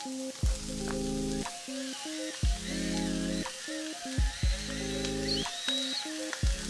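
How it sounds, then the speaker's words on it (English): Onions and patties fry on a Blackstone griddle over low burners, giving a steady, close sizzle that runs throughout with occasional soft knocks. "We're gonna let these onions just sweat down a little bit."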